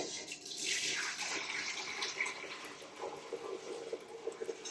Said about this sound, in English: I'm going to take this pot and pour off through there